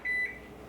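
A single short electronic beep from a kitchen oven signals that it has finished preheating, clear but fairly quiet against a soft room hum.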